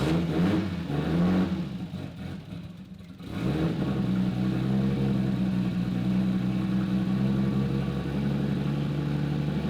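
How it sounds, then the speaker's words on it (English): A car with a Toyota 1JZ six-cylinder engine fitted with seven ignition coils cranks, then fires up and settles into a steady, rough-sounding idle close by. "And now I will turn the car on."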